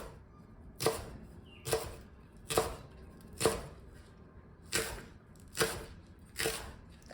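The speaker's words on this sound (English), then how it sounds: "So now I'm going to cut these on the bias." Kitchen knife slicing scallions on the bias against a cutting board, seven crisp, evenly spaced chops about a second apart, close and quiet, with no talking.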